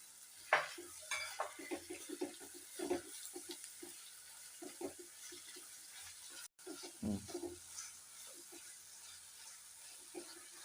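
Tomato and green chili sautéing in a clay pot: soft sizzling with scattered stirring scrapes and light clinks of a utensil against the pot, fairly quiet and close.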